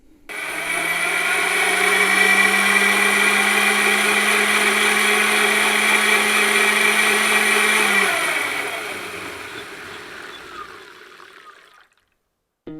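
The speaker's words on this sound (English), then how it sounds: "Milo is selling this blender as a quiet blender. It's not true at high speeds." A millo smart blender runs at high speed with a loud, steady whirring whine that holds evenly for about eight seconds, then winds down and fades before stopping near the end.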